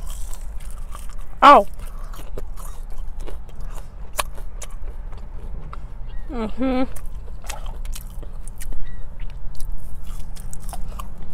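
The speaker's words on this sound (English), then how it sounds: "McDonald's fries have the best crunch though." Crunchy McDonald's french fries are bitten and chewed close to the mic in a fast food mukbang, with scattered crisp crunches over a steady low background and a couple of short vocal sounds.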